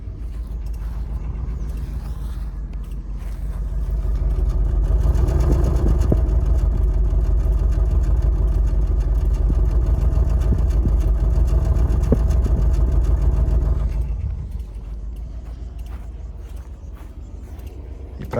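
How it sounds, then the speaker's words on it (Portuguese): A modern V8 engine with 32 valves idles smoothly and close by, its low rumble swelling louder for several seconds in the middle before settling back to a quieter steady idle. "Esse motor V8, 32 válvulas"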